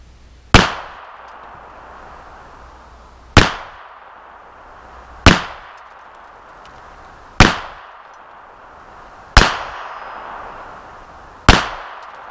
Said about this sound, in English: I'm going to use my Baby Browning caliber 25 ACP, and I've got it loaded with Hornady custom ammunition, 35 grain jacketed hollow point.